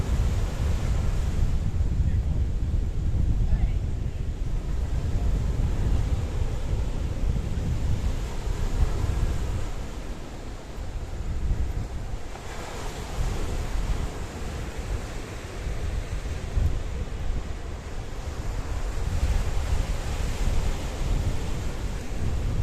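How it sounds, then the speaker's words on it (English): On a rocky coast in Paphos, Cyprus, waves surge and wash continuously while strong wind buffets the microphone. The rumble rises and falls in broad swells throughout. "the wind and the waves today are making it absolutely spectacular"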